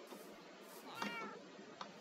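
Meowing from a cat in Minecraft, a short mewing cry near the middle followed by a brief fainter chirp, fairly quiet and heard alone without speech.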